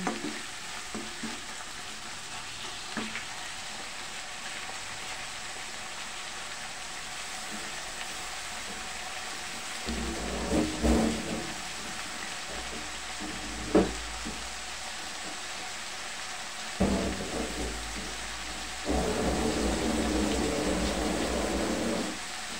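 Bottle gourd and meat sautéed together for ginisang upo simmer in a pan with a steady bubbling sizzle, broken by a few louder stirring clatters and bursts.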